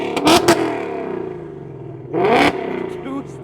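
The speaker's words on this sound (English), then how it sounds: "Let's give one more rev for track mode." Ford Mustang S650 fitted with headers revving in track mode, two sharp loud blips with a lingering rumble between them, close by.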